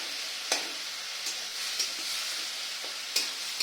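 Spice masala with tomatoes being sautéed in a pan, a constant bright hiss of sizzling oil with a few crisp spatula strokes scraping the pan, close and steady, no talking.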